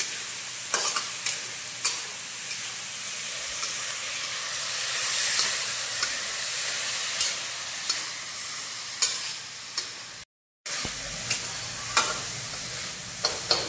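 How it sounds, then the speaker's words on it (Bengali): Chicken pieces coated in chilli powder, coriander-cumin and crushed ginger-garlic paste sauté in a pan in a Kolkata Mughlai-style kitchen, a steady close sizzle with sharp scraping stir strokes, cut by a brief silent gap near the end. "চিকেনটা আমাদের কষানো হয়ে গিয়েছে মশলার সঙ্গে।"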